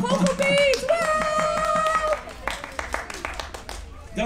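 Audience clapping breaks out at an outdoor Sinterklaas festival in a shopping centre, scattered and fairly close, following a stretch of voices and music.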